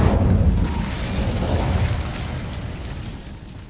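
Casting Incendio in Hogwarts Legacy releases a loud, close fire burst with a booming whoosh that hits immediately and decays gradually over about three seconds.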